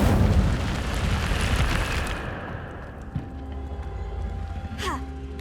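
An Incendio fire spell is cast in the video game Hogwarts Legacy: a loud, roaring whoosh of flame dies down over a couple of seconds, followed by a faint pop and quieter game ambience.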